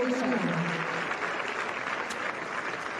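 Crowd applause at a women's professional tennis match at the Abierto Zapopan: a steady, full wash of clapping from the stands that holds evenly throughout and tapers slightly at the end.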